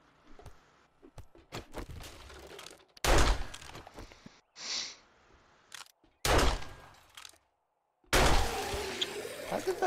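Gunfire in the console version of the video game 7 Days to Die while clearing an infested ranger station: several sharp, loud bursts with gaps of quiet between them, mixed with smaller clicks and thuds.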